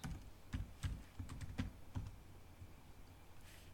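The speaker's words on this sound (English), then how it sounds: "you're going to simply hit the Tab key, and you're going to type in the word keywords" Steady typing on a computer keyboard while entering essay keywords, with separate key clicks in an uneven rhythm, close and quiet, then a short pause near the end.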